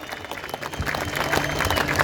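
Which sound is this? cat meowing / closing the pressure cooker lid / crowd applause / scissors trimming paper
crowd applause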